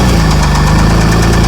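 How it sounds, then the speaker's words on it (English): A turbocharged Honda NSX with a C30 engine knocks severely, giving a loud, fast, steady rhythmic clatter over the running engine, close up with no voices. "unfortunately, this one makes some severe engine noise."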